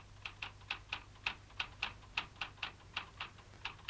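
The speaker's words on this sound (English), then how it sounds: "he pounds away at the keyboard, and the invitations roll out at an incredible rate" Rapid, evenly spaced mechanical keystrokes from a typewriter-like keyboard being pounded hard in a children's animal puppet tale, clicking steadily about three or four times a second over a low hum, with no talk.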